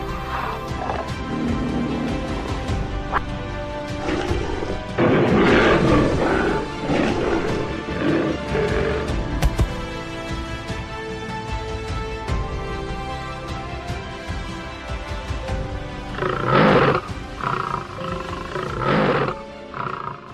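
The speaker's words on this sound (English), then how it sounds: "And then the tiger appears like a living nightmare." A tiger in an arctic wilderness gives loud, rough roars that come in bursts over a dramatic orchestral score.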